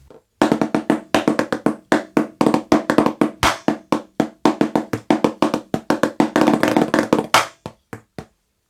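Snare drum plays a trade-off solo at 60 BPM, a loud, close series of sharp crisp strokes in a complex syncopated rhythm with quick grace-note clusters, alone without talk.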